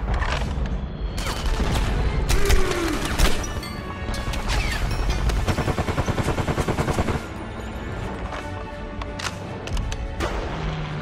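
Heavy gunfire in the Enemy Front war game: loud overlapping shots and rapid machine-gun bursts, with a sustained rattling stretch and crashes, close and dense throughout.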